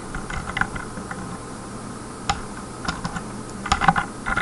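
Steady typing on a computer keyboard while writing a C program, with rapid irregular keystrokes and a denser flurry near the end, close and moderately loud over a constant background hiss.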